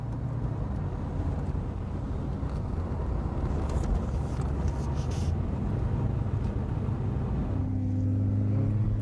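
Mercedes AMG SLC classic car driven at speed around a narrow handling course at the Boxberg Classic event, a steady loud engine drone and road rumble heard from inside or close by, with no clear talk.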